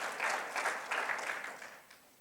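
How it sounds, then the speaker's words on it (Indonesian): A church congregation at a Sunday worship service bursts into applause in rhythmic waves of clapping, fading out over the last second. "Mari berikan tepuk tangan."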